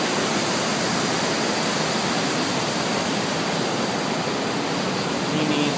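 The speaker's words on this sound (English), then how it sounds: "Look at the waterfall." Waterfall pouring steadily in Venezuela, a loud, continuous broadband roar of falling water that stays even from start to finish, with no voices over it.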